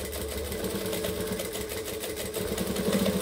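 A sewing machine stitches steadily at a four stitch length while sewing a Magdalena bag, a close, even mechanical whir with rhythmic needle clatter running continuously and alone.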